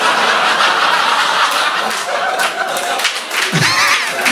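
Stand-up comedy audience clapping and laughing in a dense burst of applause with snickers, loud and close, tapering slightly toward the end.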